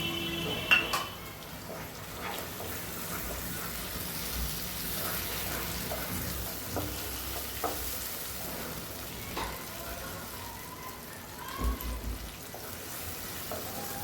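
Onion and tomato puree sautéing in a pan for paneer bhindi masala give a soft, continuous sizzle, punctuated by spatula scrapes and metallic clinks of stirring, with no voice.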